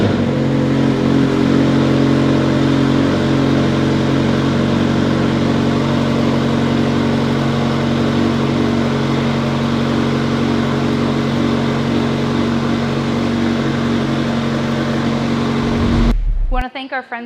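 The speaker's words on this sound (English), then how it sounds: "we are going to start up and hear what the cold start sounds like for this McLaren Senna" A McLaren Senna's engine holds a loud, steady high cold-start idle with a layered mechanical drone, running continuously close by until it abruptly cuts off near the end.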